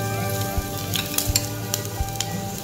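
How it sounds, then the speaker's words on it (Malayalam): Chopped shallots sizzle in hot coconut oil, a steady, fairly quiet hiss with a few sharp pops and light knocks from the pan. No one speaks. "ഇപ്പോൾ വെളിച്ചെണ്ണ ചൂടായിട്ടുണ്ട്. ഇതിലേക്ക് 1/12 ചെറിയുള്ളി അരിഞ്ഞത് ചേർത്ത് കൊടുക്കുക."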